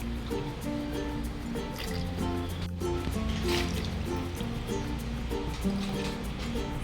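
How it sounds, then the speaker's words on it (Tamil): Water is poured into a pot for sweet corn soup, a steady trickling and filling sound with faint drips, moderately quiet and close, continuing without pause. "இதுக்கப்புறமா தண்ணி சேர்த்துக்கோங்க"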